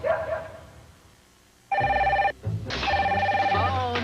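A telephone ringing with loud electronic tones in two bursts, the second longer, near and clear, after a quieter stretch with faint background tones.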